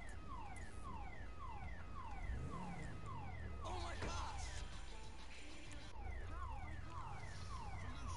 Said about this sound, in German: Schöne Alarmanlage da.